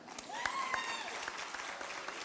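A crowd at an adult learning center graduation ceremony applauds with scattered, distinct claps in a moderate room, with faint voices and a few whoops underneath.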